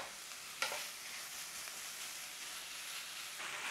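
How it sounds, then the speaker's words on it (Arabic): Minced meat sizzling in a hot pan while being stirred, a steady hiss of frying with a couple of sharp scraping clicks from the spatula, no talking. "قلينا اللحمة وسطويناها"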